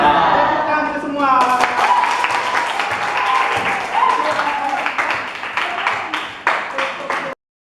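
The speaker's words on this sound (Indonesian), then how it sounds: "Tepuk tangan semua." A classroom of students bursting into applause, dense clapping that fills the room for several seconds and then tapers off into scattered claps, with some voices mixed in.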